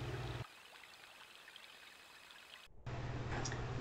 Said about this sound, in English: I never knew that stoats could swim.